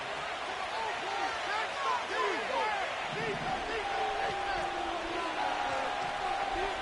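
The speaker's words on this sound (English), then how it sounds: "This crowd into it now as we get to 3rd down." A football stadium crowd roars on third down at a Giants game, a dense, steady wash of cheering throughout, with a commentator talking over it.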